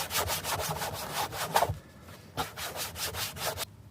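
Car plastic trim is scrubbed with a plastic cleaner, giving steady rhythmic rubbing and wiping strokes up close, with a brief pause midway before the strokes resume.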